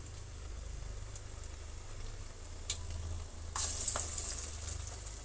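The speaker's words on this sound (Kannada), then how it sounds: "ಈ ರೀತಿ ವಡೆ ಹಾಕ್ಕೊಳ್ಳೋಣ ಚೆನ್ನಾಗಿ ಡೀಪ್ ಫ್ರೈ ಆಗಬೇಕು" Vada deep frying in hot oil gives a steady, dense sizzle throughout, swelling into a brighter, louder crackle partway through as more batter hits the oil.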